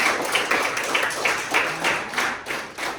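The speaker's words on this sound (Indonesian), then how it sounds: "tepuk tangan untuk kalian semua" A classroom of students applauds together during a physics lesson, a steady wash of many overlapping hand claps that swells and dips in waves for a few seconds, moderately loud and close.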